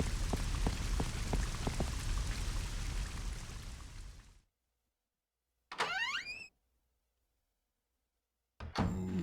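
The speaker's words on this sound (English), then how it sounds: "Also, no music yet. Just the sound of rain and fire." Steady rain falls for several seconds in Resident Evil Code Veronica, moderately loud and close with scattered drops. Then it stops, and two brief mechanical game sounds follow after gaps of silence.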